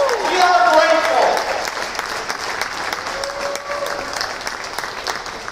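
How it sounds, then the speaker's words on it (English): An audience claps heartily at a Brunswick Dolphins basketball game, a dense burst of applause that peaks early and then tapers to scattered clapping under crowd noise. "Mo and Joe Stanley a Brunswick Dolphins hearty round of applause."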